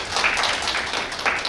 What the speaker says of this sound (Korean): 박수 한번 치드립니다.